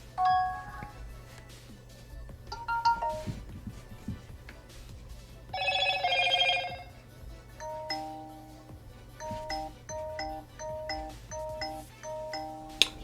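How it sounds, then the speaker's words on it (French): A melodic electronic ringtone from a Motorola G15 phone plays in repeated short tone patterns, with a brighter chiming burst midway and quiet background noise. "C'est sonnerie de mon père, ça."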